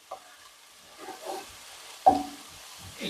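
Frying in a pan with oil and rendered fat for a lentil soup, with faint sizzling, occasional stirring scrapes and one sharper clatter, close but quiet.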